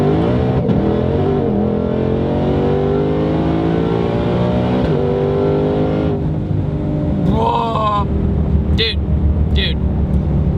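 A 930 hp 2020 Shelby GT500 accelerating hard with rapid gear shifts, a loud rising engine roar broken by quick drops at each shift, heard from the cabin with voices speaking over it.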